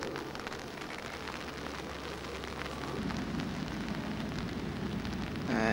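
Steady rain falls in Winchester near the cathedral deanery, a dense, even hiss of drops on surfaces that stays close and constant throughout and grows slightly heavier toward the end, with no voices.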